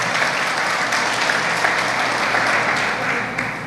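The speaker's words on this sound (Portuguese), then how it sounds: "dê uma forte salva de palmas por Jesus" A church congregation gives a strong round of applause, many hands clapping in a continuous, fairly even wash throughout.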